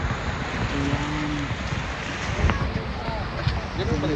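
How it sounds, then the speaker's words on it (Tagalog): Sea waves and wind along the Malilipot seawall by Tabaco Boulevard, a steady broadband wash of surf and gusting wind noise on the microphone throughout, with a voice talking faintly in places. "Yung dagat."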